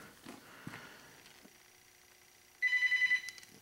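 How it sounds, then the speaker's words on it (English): A telephone rings once near the end, a short burst of bright electronic trilling that follows a quiet stretch of faint handling and rustling, with no one speaking. "There's the damn phone."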